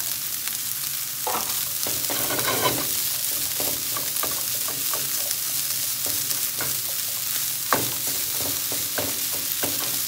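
Meat and chickpeas brown in a pan, a steady close sizzle with light stirring clicks and scrapes, including one sharper knock near the end, and no talking.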